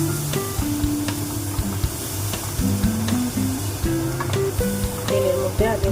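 Spice paste for bhetki fish sizzles and spatters in hot oil with nigella seeds, dried chillies and turmeric, a steady bubbling hiss under background music, continuous and close.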